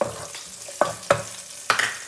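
Garden chillies frying in a pan crackle and hiss up close, with several sharp spitting bursts over a low, continuous sizzle.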